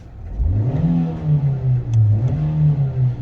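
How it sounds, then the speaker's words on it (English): A 2010 Nissan Qashqai 1.6 petrol with 5-speed manual revs from idle, engine note climbing quickly, holding, dipping briefly, then rising again in a second sustained rev, heard close with no talking. "Let's just give the engine a rev and just have a listen to that."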